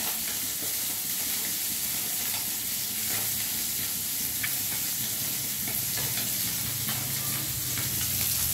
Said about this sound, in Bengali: মাছগুলো এবার ভাজা হয়ে গিয়েছে